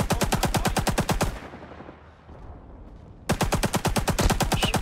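An RP-46 machine gun fires in Rising Storm 2 on a Saigon map, loud close bursts of rapid evenly spaced shots, a pause with a fading echoing tail, then another sustained burst.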